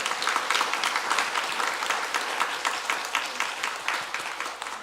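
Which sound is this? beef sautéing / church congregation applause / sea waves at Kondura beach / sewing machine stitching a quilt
church congregation applause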